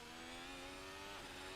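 F1 2021 car engine revving in a VR racing game on the Nordschleife, a brief high-pitched sustained engine tone with a slight pitch rise, loud and close with no talk.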